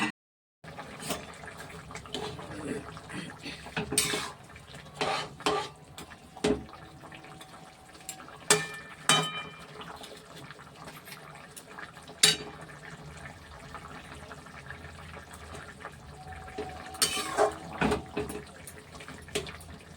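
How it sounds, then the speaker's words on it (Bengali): Water is poured into a pan of frying spice mixture for a tangra fish curry, producing close watery splashing, bubbling and clattering bursts that rise and fall unevenly over a steady background. "এবার জলটা দিয়ে দিলাম"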